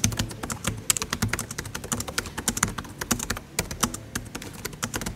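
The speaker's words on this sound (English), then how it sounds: "They glide your fingers for better accuracy while typing, resulting in a nice symphony" Fast, steady typing on the keyboard of a 14-inch budget laptop, with crisp, close key clicks tapping in a dense, even rhythm with no talking.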